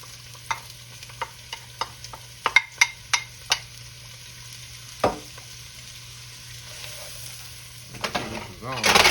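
Onions tossed into a hot pan sizzle for a cabbage and pork dish, with a run of sharp clinks and scrapes of stirring, a faint steady hiss beneath, and a louder burst of frying at the end.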